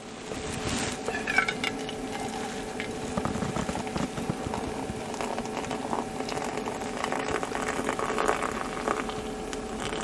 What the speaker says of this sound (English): Now we pour our water in.